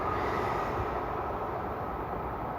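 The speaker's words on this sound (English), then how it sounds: "there's a train coming" A train rumbles past nearby, a dense, steady roar of wheels and carriages filling the whole short stretch without pause or voices.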